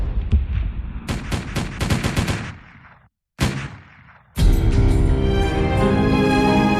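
Gunfire standing in for the opening battle of the American Revolution at Lexington, Massachusetts, between British troops and colonial militia: loud, dense volleys of shots in rapid bursts, a brief lull, then a sustained roaring barrage with no voices.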